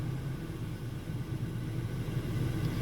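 A Toyota Tacoma with a Borla S-Type stainless steel exhaust idling, a steady low rumble with a throaty pulse, close and quiet, no voices over it.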